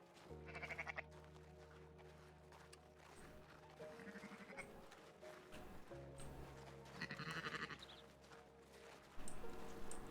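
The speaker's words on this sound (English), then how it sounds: "Locate and shear the designated sheep." Sheep bleat repeatedly in the RedM game during a shearing task, several wavering cries at moderate distance over a steady ambient bed, with faint footsteps or hoof clops between them.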